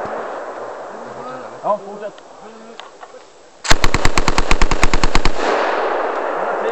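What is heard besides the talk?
gunfire from a firearm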